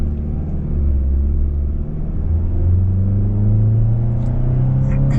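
A 2026 Kia Sorento S AWD with a naturally aspirated inline four-cylinder pulls away and accelerates, a loud, steady interior engine drone rising gradually in pitch throughout, with no talking.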